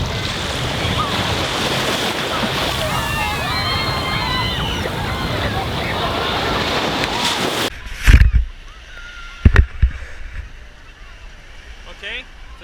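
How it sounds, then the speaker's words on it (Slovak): Strong wind blows steadily across the microphone at a Margate seaside beach, with broadband rushing and surf-like roar for about eight seconds, then drops away, leaving a few loud gusty buffets. "Takže neviem, ako ma budete počuť, dosť tu fučí."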